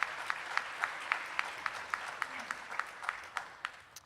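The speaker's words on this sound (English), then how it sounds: "Let's give a warm round of applause for Madison Walker." Audience clapping at a faculty and staff awards ceremony, with a few louder, regularly spaced claps standing out above the general applause of the crowd, no talk.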